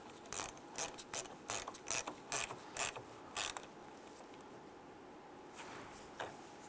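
A hand ratchet cranks down a battery terminal bolt on a 2002-2008 Dodge RAM, giving a close series of about ten quick clicking bursts in a steady rhythm, then a pause and a couple of fainter clicks near the end.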